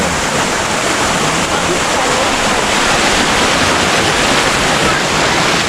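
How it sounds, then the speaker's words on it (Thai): A waterfall roars steadily and loudly, a dense continuous rush of falling water filling the whole clip. "ทางนี้เป็นน้ำตก"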